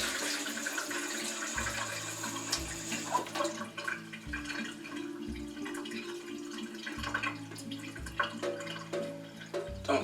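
Tap water runs and splashes as sprouting seeds are rinsed, a steady close trickle with intermittent hollow sloshing and draining gurgles.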